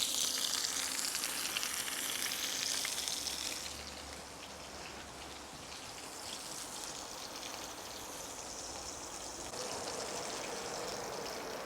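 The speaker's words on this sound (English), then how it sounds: "what I'm going to do is just pop the burger into the oil there" A burger fries in oil on a grill with a steady, close crackling sizzle that is louder at first, then settles into a softer continuous spatter, with no voices.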